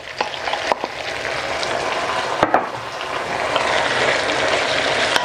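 Onions fry in a pan as tomatoes go in, a loud continuous sizzle punctuated by sharp clacks and scrapes from the utensil and the tomatoes dropping in.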